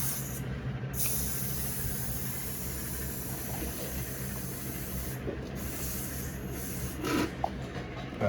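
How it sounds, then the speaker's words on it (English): Air hisses out of a Sur-Ron electric dirt bike tire in a steady, fairly quiet rush that stays mostly even, with a few handling noises and no talking. "let the air out of the tire"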